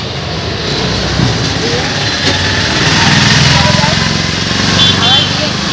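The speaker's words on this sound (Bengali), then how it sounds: "আমি টোটোতে উঠে গেছি" A steady motor hum with road rumble while riding in an electric rickshaw, with people talking over it throughout.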